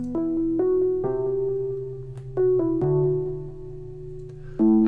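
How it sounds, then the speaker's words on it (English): A polysynth steps through a four-chord loop, with each chord entering crisply and sustaining before the next, playing alone at a steady, moderate level. "I started with this polysynth that sounds like this."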